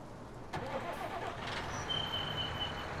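Tractor engine in the farming game Farming Simulator 19 turns over and settles into a steady mid-pitched running drone, fairly close and continuous with no talk over it.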